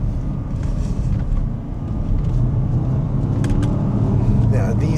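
Porsche Cayenne Turbo 958.1 engine pulling hard in second gear, a steady loud low rumble from inside the cabin that builds slightly over a few seconds, with no talk over it.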